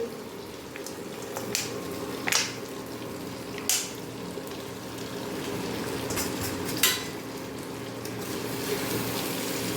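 Unripe jackfruit and potato curry fries in oil with a steady sizzle, broken by several louder spatula scrapes and clinks against the pan, heard close with no talking.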